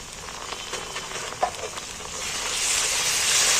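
Ginger garlic paste sizzling with lightly browned onions in a pan, a steady close frying hiss that builds slightly louder toward the end, with a small clatter early on.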